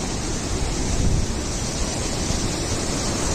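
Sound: river water flowing over stones

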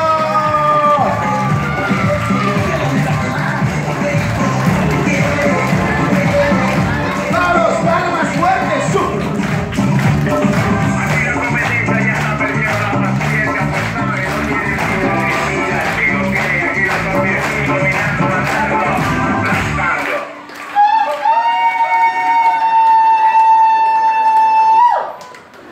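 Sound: party guests applauding for a birthday

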